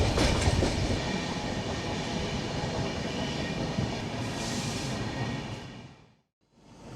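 A passenger train runs along the Vizag to Kolkata route via Titlagarh with a steady rolling rumble and wheel clatter, loud and continuous until it drops almost to silence near the end before resuming.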